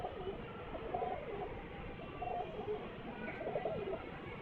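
A pigeon coos softly in repeated low, throaty phrases close by, over faint background hum.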